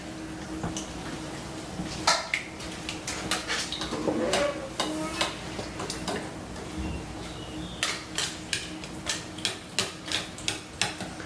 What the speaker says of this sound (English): Gently start mixing this unless you want to have milk and everything all over you.